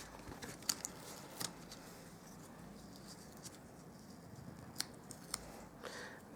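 Scissors cutting out paper pieces for a card box, with faint soft snips and small clicks scattered over a quiet hiss, close but low in level.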